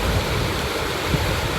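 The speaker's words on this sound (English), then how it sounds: "I like to think of it like this river that I'm beside right now. This river flows." A river flowing right beside the listener, a steady, dense rushing and burbling of water that stays even throughout, close and full.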